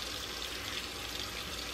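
Tap water running steadily during hair washing at home, a continuous close hiss and splash with no talking.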